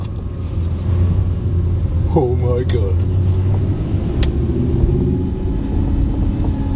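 A supercar's engine rumbles low and steady inside a shopping car park tunnel, a constant near drone throughout, while a person speaks briefly partway through.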